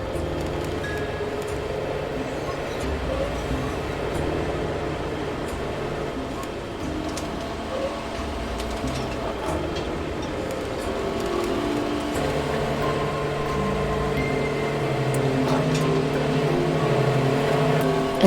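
A train in motion gives a steady, continuous rumble with faint rattles and clicks, holding at a moderate level for the whole stretch and swelling slightly toward the end.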